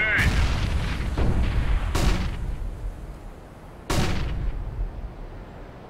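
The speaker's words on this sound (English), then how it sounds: "Grenade!" Heavy booms from a grenade blast in CS:GO, three big impacts over a few seconds amid gunfire and game noise, with a brief shout at the start.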